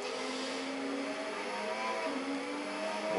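A McLaren MP4/4 Formula 1 car roars at high revs in the racing game F1 2017, a steady loud engine whine sustained throughout with slight pitch shifts and no talking.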